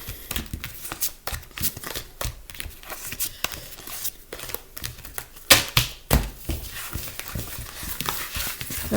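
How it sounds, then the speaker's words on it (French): Oracle cards shuffled and scraped over a mat, a run of quick, irregular papery riffles and taps, close and fairly soft, with no talking. "Il y a juste qu'à griffer les cartes."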